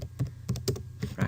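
Computer keyboard typing: a quick run of about half a dozen distinct key taps at close range, irregularly spaced, with no voices.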